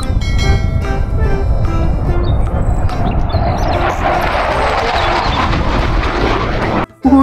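Fighter jet sound effect from a toy military plane, a loud steady roaring engine drone that continues almost unbroken and cuts out briefly just before the end.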